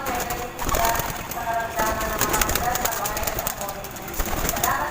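Pigeons coo as they come out of their loft in the morning, with soft repeated calls, fluttering and shuffling movement, and a voice talking over them.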